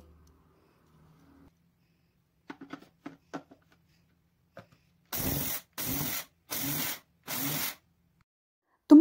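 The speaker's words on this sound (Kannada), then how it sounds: "ಮಿಕ್ಸಿನ ಈ ಥರ ಉಲ್ಟಾ ರನ್ ಮಾಡಿ" A mixer grinder running in reverse while coarsely grinding jowar (sorghum), heard as four short, loud whirring bursts with brief pauses between them, preceded by faint handling clicks.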